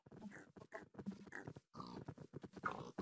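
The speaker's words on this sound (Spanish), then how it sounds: "Mira cuántos cerdos." Several Minecraft pigs grunting and snorting in a dense, continuous run of short bursts, fairly close and moderately loud, with no talk over them.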